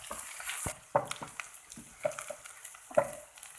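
Chopped garlic tossed into a hot oiled pan for a Sindhi green garlic dish, giving a few sharp clatters and scraping stirs over a soft, steady sizzle, close and fairly quiet.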